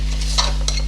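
Minced beef frying with roasted cumin in a pot while being stirred, a steady close sizzle with brief scraping stir strokes, no talk.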